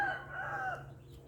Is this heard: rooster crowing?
yes